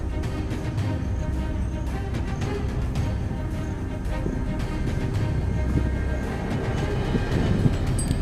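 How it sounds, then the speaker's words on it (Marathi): A train rolls past near a forest plantation below Ankai fort, a steady loud rumble with clattering wheels and rail noise lasting throughout, no talking. "दहा मिनिटापूर्वी ट्रेन दाखवली होती परत एक ट्रेन चालली"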